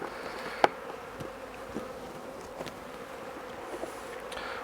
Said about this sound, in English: And the wasps are already buzzing around that.